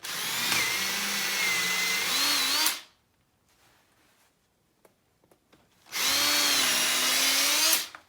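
A cordless Ridgid drill whines loud and near in two bursts of a few seconds each, with slight pitch shifts and a quiet pause of small clicks between them in a woodturning shop.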